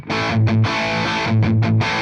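Loud distorted electric guitar chords from a Helix OCD overdrive running into a Twin Reverb amp model, strummed in a rhythmic pattern with brief choppy breaks.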